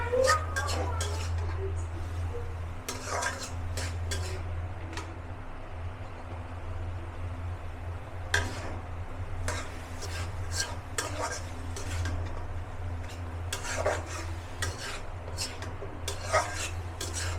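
Potatoes and ash gourd greens are stir-fried in a pan, a close run of scraping spoon strokes and clinks against the metal, spaced in bursts over a low steady hum.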